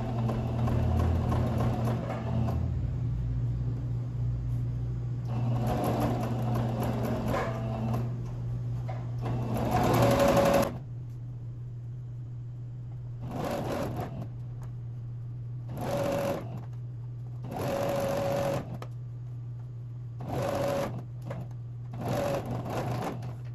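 Sewing machine stitching close along the edge of an old-money style blouse, running in loud start-stop bursts of rapid needle clatter with short pauses between them.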